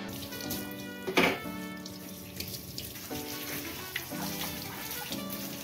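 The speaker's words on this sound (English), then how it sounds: "Always wash your veggies." Tap water runs steadily into a kitchen sink while carrots are rinsed under it, a close splashing stream with a brief louder splash and small shifts as the vegetables move.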